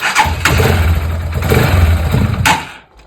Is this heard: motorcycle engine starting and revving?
yes